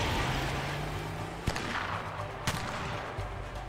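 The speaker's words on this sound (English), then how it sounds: "Why is he shooting above everything?" Gunshots in the video game A Way Out, two sharp cracks about a second apart standing out over a steady rumble of engine and driving noise, with no talk.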